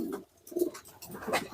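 Pigeon cooing up close, a few soft low throaty coos in short bursts with brief pauses between them, no talking.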